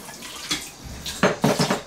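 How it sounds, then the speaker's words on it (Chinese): Soaking water poured off shredded potatoes, a brief splash and gush of water with a few clinks of a dish, close and fairly loud. "泡好的土豆丝，咱们把水给它倒掉"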